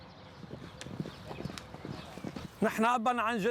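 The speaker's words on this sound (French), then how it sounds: "les chevaux de course s'élancent sur la piste sablonneuse de l'hippodrome de Beyrouth" Young racehorses galloping on the sandy track of the Beirut racecourse, soft irregular hoofbeats thudding at moderate distance before a voice starts speaking over them near the end.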